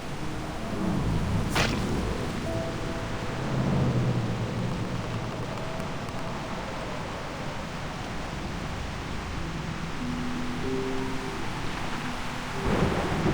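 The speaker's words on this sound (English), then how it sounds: "The rain is about to fall." Steady heavy rain pours throughout a stormy scene in the video game Reverse: 1999, with low rolling thunder rumbling beneath it and a sharp crack early on.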